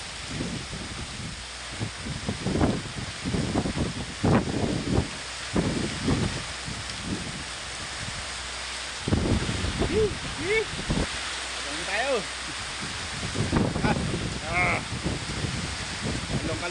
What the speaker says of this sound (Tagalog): Lakas ng unos.